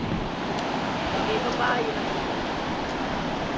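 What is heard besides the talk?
ocean waves on beach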